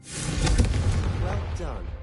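A Confringo fire spell blast in Hogwarts Legacy, a close rumbling burst of flame swelling and fading over two seconds, with voices nearby.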